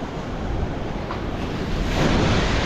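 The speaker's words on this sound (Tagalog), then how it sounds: "May hangin yan tsaka ulan." Strong wind ahead of a rainstorm roaring steadily across the microphone, a broad rushing noise with gusts swelling near the end, no voices.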